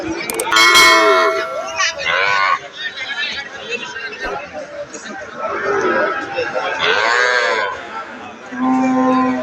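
Cattle mooing repeatedly amid a busy livestock market at Ambari haat in Mymensingh, with people talking throughout and occasional clanging in the background.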